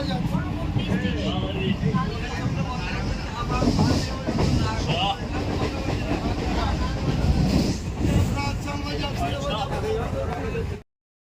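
A passenger train rolls along with a steady, rumbling clatter and wind rush heard from inside a carriage, continuous and fairly loud, with voices talking over it before it cuts off abruptly.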